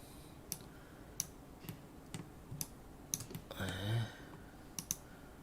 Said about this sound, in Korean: Alt키 눌러서